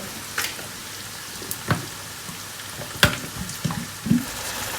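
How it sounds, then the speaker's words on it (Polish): Meat filling frying in a pan as cream is poured in and stirred, a low steady sizzle with a few scattered clinks and scrapes of the utensil, no talk. "Gdy nasz farsz już jest wysmażony, dolewamy jedną śmietanę."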